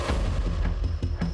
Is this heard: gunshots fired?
yes